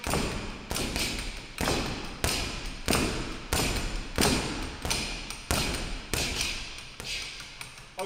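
Punches landing on a Playerz Flex Air Cobra Bag free-standing boxing target, a steady rhythm of about a dozen loud padded thuds spaced under a second apart, each with a brief rattle after impact.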